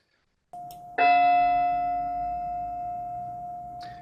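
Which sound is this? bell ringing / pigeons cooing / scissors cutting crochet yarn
bell ringing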